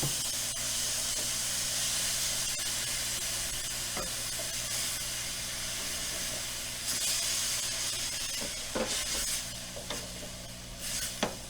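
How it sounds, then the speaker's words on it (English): Vegetable stock poured into a hot pan to deglaze it sends up a loud, continuous steamy hiss and sizzle, close by, with a few sharp utensil scrapes toward the end and no talking. "now I'm going to deglaze the pan with a 1/2 cup of vegetable stock"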